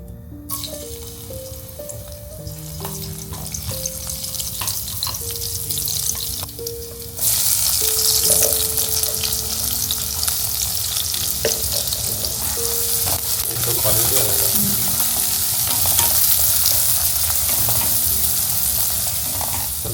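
Steady sizzling of oil heating in a kadhai for tempering onion, garlic and curry leaves for a prawn curry, loud and continuous, with a louder burst partway through and faint tonal sounds in the background.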